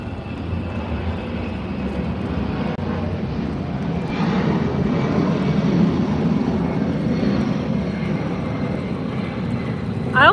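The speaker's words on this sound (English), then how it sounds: "There goes another military plane." A military airplane flies overhead outdoors, its broad engine roar rising after a few seconds and holding steady, fairly loud, with no talking.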